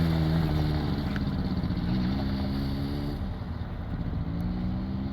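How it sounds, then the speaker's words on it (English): A dirt bike ridden in the desert at Wadi Al-Baida near Madina, its engine droning steadily and loudly with shifting pitch throughout, with no talking. "So over here my husband is riding on a bike."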